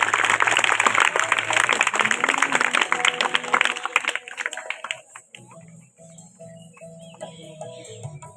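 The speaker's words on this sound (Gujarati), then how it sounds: "બાળકોના વાલીગણનું પણ આપણે તાળીઓના ગડગડાટથી સ્વાગત કરીશું." An audience at a primary school quiz event applauds to welcome parents, the clapping dense at first, then thinning and fading out over the last few seconds.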